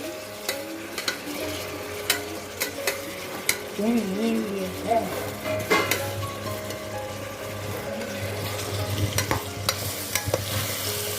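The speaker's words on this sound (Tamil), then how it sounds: "தக்காளி நல்லா வதங்கின ஸ்டேஜ் வந்துடுச்சு." Tomatoes sautéing in a pan for a spicy crab fry, a steady sizzle with repeated stirring scrapes throughout, close and fairly loud, with no talk over it.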